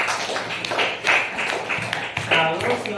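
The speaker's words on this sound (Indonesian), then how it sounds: "tepuk tangan" A short burst of clapping from a small group in a school classroom, close by, with some talking mixed in.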